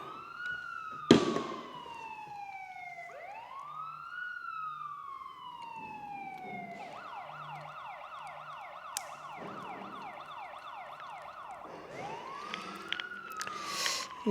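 A phone rings with a wailing siren-style ringtone whose pitch sweeps up and down over and over, clear and fairly close, with no talking.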